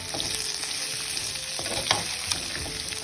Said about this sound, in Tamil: இதை போட்டு நல்லா செவக்க வறுத்து ஃப்ரை பண்ணணும்.